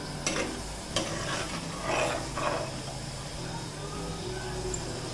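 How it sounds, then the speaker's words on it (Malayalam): Coconut milk hitting a hot frying pan of curry base, a continuous soft sizzle with a few sharper hissing bursts and stirring scrapes in the first couple of seconds, then settling to a steady bubbling fry. "ഇനി നമുക്ക് ഇതിലേക്ക് തേങ്ങാപ്പാൽ വെച്ച് കൊടുക്കാം"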